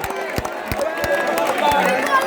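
Crowd murmur and building anticipation in the hall during a tense, closely fought match between Dwayne Lynch and Wayne Grazette, a steady babble with scattered sharp claps and knocks, mixed under commentary.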